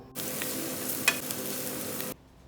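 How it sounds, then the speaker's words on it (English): Spices with half a teaspoon of turmeric powder are stirred in a hot pan, giving about two seconds of steady sizzling with a light utensil clink partway through. Then it cuts to quiet. "let me add half teaspoon turmeric powder as well. Stir it nicely and allow the ingredients to combine together"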